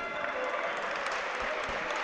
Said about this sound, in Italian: Gli applausi del buon pubblico qua al Palacattani.